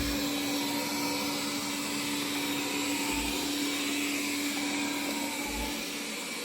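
A robot vacuum cleaner runs on carpet, a steady, close whirring drone with a constant hum underneath and a few low bumps, unbroken and without talk.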